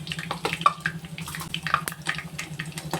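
Mustard seeds pop in hot oil with rapid irregular crackles and sizzling spatters close by, with a steady low hum underneath.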